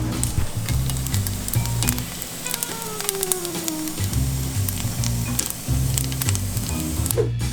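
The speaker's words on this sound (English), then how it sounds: "Because it is sizzling already," Plant-based vegan chicken pieces from the UK brand THIS sizzle steadily in a quickly heated pan, a continuous crackling fry at close range with a faint high whistle in the background and no talking.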